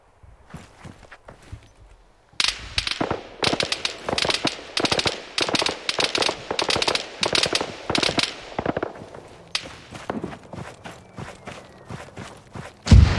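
Rapid bursts of gunfire in the video game Arma 3 (Iron Front), loud and repeated across most of the stretch after a quiet opening, with machine-gun-like rattling volleys.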